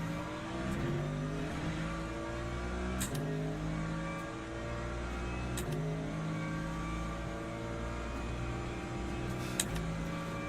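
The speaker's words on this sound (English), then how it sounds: "the BMW is really quick on acceleration, isn't it?" A BMW race car in the Le Mans Ultimate racing game accelerates hard through repeated upshifts, its engine note rising in stepped harmonic sweeps, loud and steady throughout with no talk.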